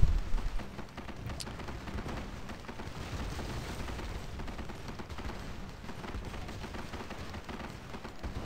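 Rapid, dense barrage of booming cannon shots in the video game Plunder Pirates, rolling continuously like a heavy battle, steady and loud throughout.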